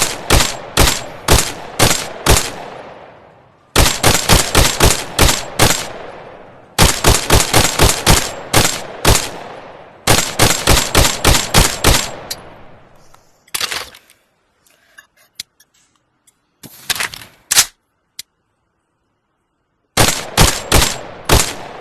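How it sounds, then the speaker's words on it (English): Rapid bursts of gunfire from the VR shooter Tactical Assault VR, loud and close, coming in repeated automatic volleys separated by short pauses, with a few scattered single shots in between. "there are cases where you can actually shoot out the skylight"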